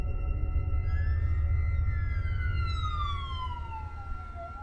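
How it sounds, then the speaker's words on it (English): Siren wailing and sweeping in pitch over a low rumble of traffic, fairly loud and steady, then fading slightly as it moves off. "woke up to the sounds of sirens"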